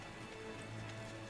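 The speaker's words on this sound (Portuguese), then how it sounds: "tá chovendo pra cacete" Rain falls steadily in the Tales of Berseria video game, a faint, continuous hiss of drops with nothing else standing out.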